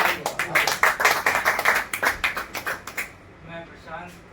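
Audience at a Safe Shop network marketing training meeting claps in a quick, even rhythm for about three seconds, loud and close, before the clapping stops and a voice carries on speaking.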